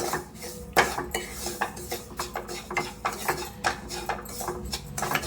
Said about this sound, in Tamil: கொஞ்சம் அதோட பச்சை வாசம் போகிற அளவுக்கு வறுத்துக்கலாம்.